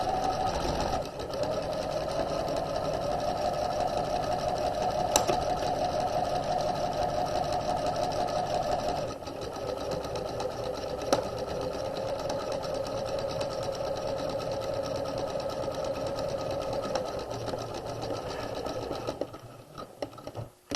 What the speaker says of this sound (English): We're going to sew down the side seam.